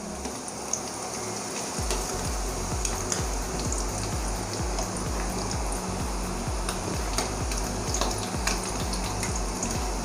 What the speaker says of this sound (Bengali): অনলি জাস্ট পনিরটাকে হালকা ফ্রাই করবো